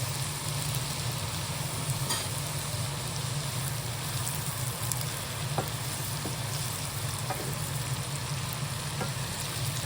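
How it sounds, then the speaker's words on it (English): Guyanese bora with potato sizzles steadily in a pan of hot oil, a dense continuous frying hiss with occasional soft scrapes and clicks of stirring, close and loud with no talking. "Now you want to stir everything together and let it fry for maybe another 2-3 minutes."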